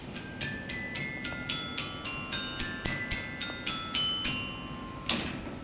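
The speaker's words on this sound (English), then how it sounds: "And this particular change is called the seesaw" A rapid sequence of about a dozen bell strikes rings out evenly in the seesaw change, the pitches stepping down and back up in a repeating pattern, leaving a lingering shimmer.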